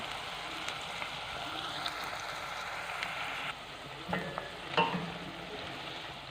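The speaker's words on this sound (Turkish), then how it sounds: "Fasulyemizi soğanla birlikte hafiften şöyle bir soteledik." Green beans and onion sautéing in a pan, a steady hissing sizzle with occasional scrapes and stirring clatters of a utensil, close and fairly loud with no talking.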